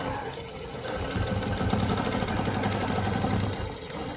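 A longarm quilting machine stitches Baptist fan patterns along rulers on a quilt, giving a continuous close mechanical hum with a fast, even rhythmic pulse throughout.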